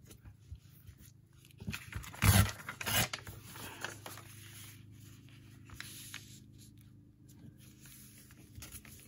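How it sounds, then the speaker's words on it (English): Paper being torn off the top of a sheet for a handmade envelope journal, a short rough ripping burst followed by softer rustling and handling of the paper, close and fairly loud. "let's tear a little bit off the top"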